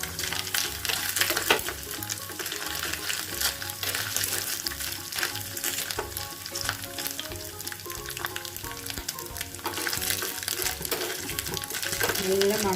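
Chicken and coconut pieces fry steadily in coconut oil, giving a loud, dense sizzle with bubbling crackle that runs throughout, joined by stirring scrapes and a faint voice beneath.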